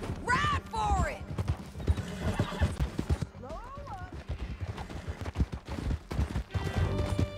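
Horse hooves clip-clop at a steady gallop through a canyon in Red Dead Redemption 2, with a horse whinnying, distant gunfire and a voice talking over the ride.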